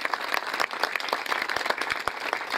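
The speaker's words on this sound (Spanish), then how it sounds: "un aplauso fuerte también a él" A crowd at a public works event in a Las Colinas neighborhood claps for a senator, a lively, dense burst of applause with sharp individual claps standing out.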